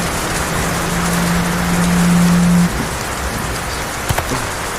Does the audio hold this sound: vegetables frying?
no